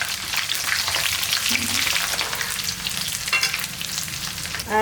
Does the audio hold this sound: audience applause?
no